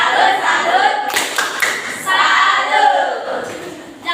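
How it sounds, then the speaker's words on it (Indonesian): A classroom group claps out a rhythmic salute cheer, with sharp unison claps in a patterned beat cutting through a background of children's voices. "Kita kasih dulu tepuk salut untuk kelompok yang terbaik ya."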